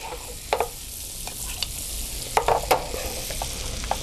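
Schnitzel fries in butter in a pan, a soft continuous sizzle with a few sharp scrapes and clicks as the pan contents are moved around, no voices.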